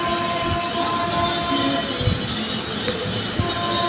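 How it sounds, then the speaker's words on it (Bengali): Rumbling train pulling in, steady mechanical roar with faint clatter and a murmuring crowd nearby. "এই যে চলে এসছে ট্রেন"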